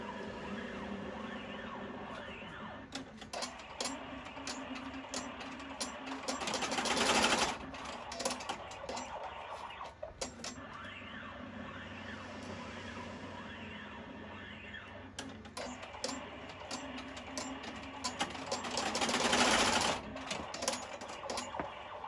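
Sewing machine tacking down the pleats of a fabric face mask, a steady mechanical whir running in bursts with brief pauses and louder swells, close and alone with no talk.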